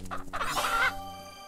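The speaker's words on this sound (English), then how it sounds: "Chicken!" A chicken clucks in the video game Bee Simulator, a short burst of loud, close squawking clucks lasting under a second, then quiet with a faint low hum behind it.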